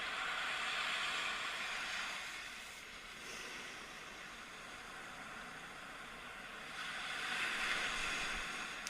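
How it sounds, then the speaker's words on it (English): Ocean surf washing onto a beach, faint and distant, with two soft hissing swells separated by a quieter lull. "The sound of the surf in the background."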